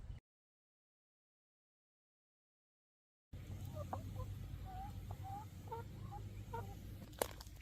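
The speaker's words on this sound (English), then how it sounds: "Our 3 chooks." Three pet chickens cluck softly in a backyard after a stretch of silence, with scattered short calls over outdoor background noise and one brief louder knock near the end.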